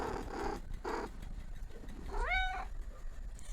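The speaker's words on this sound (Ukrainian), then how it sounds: "Котики здатні" A domestic cat gives a single rising, tonal meow near the end, preceded by soft, low rumbling purr-like sounds over a quiet background.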